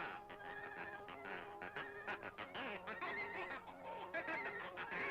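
A cartoon chicken in an old Mickey Mouse short squawks and honks in frantic, rapid bursts, with an old, thin soundtrack quality throughout.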